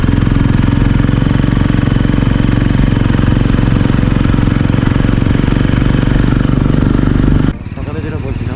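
An Apache motorcycle engine runs with a loud, steady, dense rumble close by on a high-altitude ride in North Sikkim, then drops off abruptly near the end to a quieter idle.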